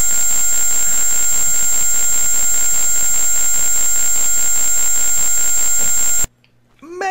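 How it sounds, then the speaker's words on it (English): Tandy Color Computer sounding its highest tone, a shrill, piercing steady whine sustained for about six seconds, then stopping abruptly as a voice speaks briefly. "That was really high pitch."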